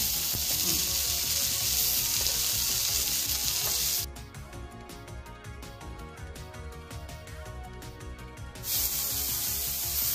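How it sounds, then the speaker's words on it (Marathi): Green chili and tomato slices sizzle loudly in hot oil, a dense steady crackle that drops to a softer, thinner hiss midway before surging back to full strength. "इथं थोडंसं तेल टाकून घ्यायचं आहे आणि सरसर भाजून घ्यायचं आहे हिरवी मिरची आणि टोमॅटोचे काप"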